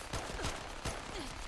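Minigun fire in Fallout 4 as a rapid burst of shots, with a few sharp reports standing out over a short, dense spray of gunfire.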